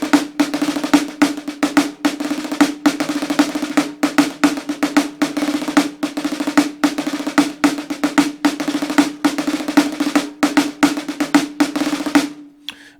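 A snare drum plays the opening four bars of a rudimental march alone, with dense rapid strokes and rolls in a steady driving rhythm, close and loud, breaking off into silence near the end.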